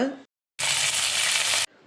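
A burst of loud, steady sizzling as dried red chillies, curry leaves and spices hit hot oil, lasting about a second, with brief quieter moments before and after.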